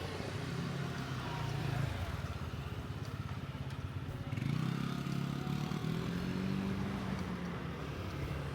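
Motorcycles riding along a street in Lukang, Taiwan, their steady mid-range engine drone passing close by in a continuous stream, with general street clatter and a faint voice underneath.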